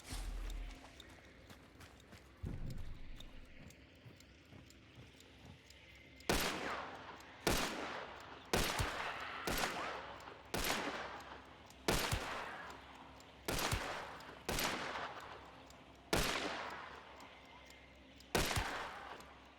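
Gunfire in the video game Apex Legends comes as a series of loud sharp single shots, roughly one per second after a couple of early isolated bursts, with quiet pauses between.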